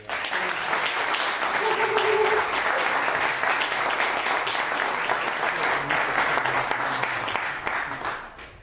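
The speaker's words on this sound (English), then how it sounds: "One more round of applause." Audience applause at an open mic poetry reading, a steady sustained round of clapping from a crowd that fills the whole stretch before tapering off at the end.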